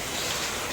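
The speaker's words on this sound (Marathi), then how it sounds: "सकाळपासून एवढा पाऊस." Heavy rain falls steadily on a flooded farm field near a house, a close, even patter of drops on surfaces with no talking.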